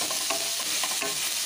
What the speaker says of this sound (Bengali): টমেটো কাঁচা লঙ্কাটা দেওয়ার পরেও বেশ আর একটু নাড়াচাড়া করে নেব।